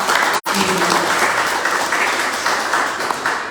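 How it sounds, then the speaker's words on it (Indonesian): A crowd applauds steadily throughout, dense and sustained clapping with a brief cut near the start. "Tepuk tangan buat dia."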